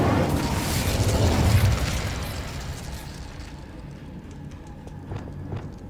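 Bombarda blasting spell in Hogwarts Legacy: a loud, broad explosive burst with rumbling debris that slowly decays into a fading rumble, with faint crackles toward the end.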